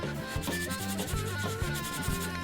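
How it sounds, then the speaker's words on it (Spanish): Sandpaper rubs over dried papier-mâché in quick back-and-forth strokes, a close, repeated scratchy rasp with a steady rhythm and no talking. "Cuando la cartapesta ya está bien seca, lo que voy a hacer ahora es lijarlo para emprolijarlo un poco."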